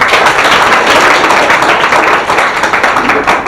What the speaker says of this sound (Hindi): तालिबा के लिए तालियां मारो।